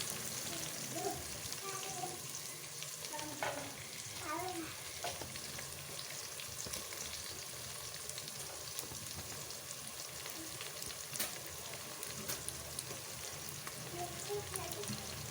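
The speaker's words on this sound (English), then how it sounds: "See, as this is nicely frying," Chopped mint and coriander frying in a pan for mutton biryani, a continuous soft sizzle and crackle with occasional stirring clinks, heard close and steady while a person speaks briefly in the background.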